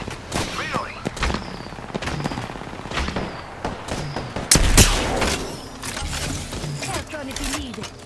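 Gunfire in an Apex Legends match: a steady stream of close shots and rapid bursts runs throughout, with a heavier blast near the middle, and game voice lines and effects sit underneath.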